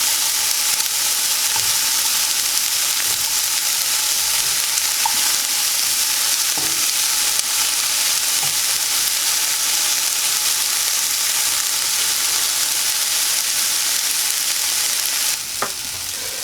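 Vegetables sautéing in a pan for an omelet, a dense continuous sizzle with steady crackle and occasional light scrapes of stirring, close and even, no voices.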